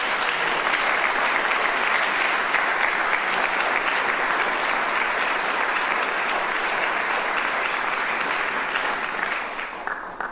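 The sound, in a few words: round of applause at awards ceremony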